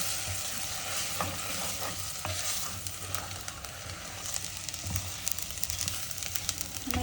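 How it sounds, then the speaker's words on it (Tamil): Onions mixed with chili powder fry in hot oil for a fish curry, a steady sizzle with scraping stirs and occasional spatula knocks against the pan, close and continuous. "அதை போட்டு நல்லா கிண்டி எடுத்துகிட்டு போகிறாங்க"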